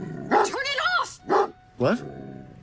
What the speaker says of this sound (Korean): 심상치 않은 분위기를 느낀 개는 큰 소리로 짖기 시작하고